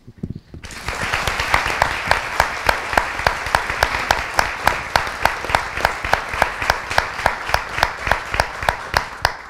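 Audience applause at a university talk, with broad steady clapping and, on top of it, a single sharp, regular clap close to the mic repeating about every third of a second.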